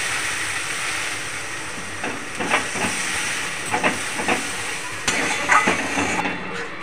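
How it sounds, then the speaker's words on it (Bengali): Water poured into frying spice masala in a pan for a Bengali snakehead fish curry, a steady loud sizzling hiss with intermittent crackles and spattering. "এবার আমি অল্প একটু জল ফের দিয়ে দেবো।"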